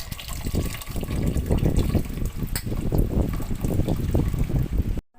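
Tamarind water pours steadily into a simmering fish curry, a continuous gushing, splashing stream of liquid lasting several seconds before stopping abruptly.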